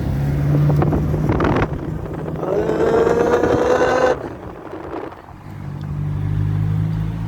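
A 12-wheel truck is driven hard like a race car, with a rising engine drone that swells and then cuts off. Loud wind buffeting and rumble run throughout and fade briefly before the roar builds again.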